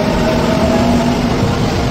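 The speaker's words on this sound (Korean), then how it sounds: "출발 후 열차가 승강장을 떠날 때까지 제법 시간이 걸립니다." A train pulls away from the walled, single-track-feeling platform at Guil Station, a steady rumble with a tonal hum and rail noise that stays loud and continuous throughout, with no voices.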